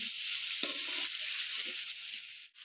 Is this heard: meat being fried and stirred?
yes